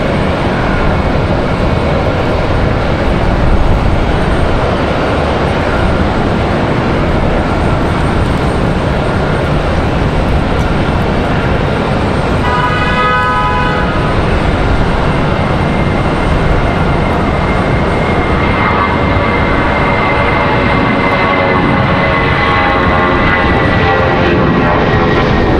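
An Airbus A319 airliner passes at Raleigh-Durham airport with a steady, broad jet roar that stays loud throughout, and a brief rising whine appears midway.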